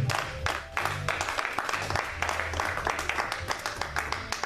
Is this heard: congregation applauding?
yes